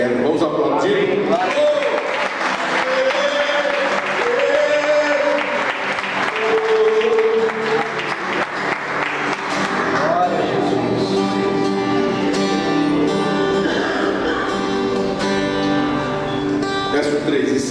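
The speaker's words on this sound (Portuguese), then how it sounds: "Vamos aplaudir?" A church audience applauds at a sermon, producing dense sustained clapping throughout while music plays along underneath.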